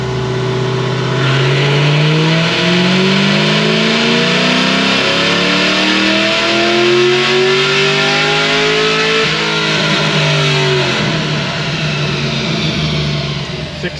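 A Whipple-supercharged Chevrolet SS V8 revs hard and close, its pitch climbing and holding high, dropping and then rising again across fourteen seconds of loud, sustained engine roar.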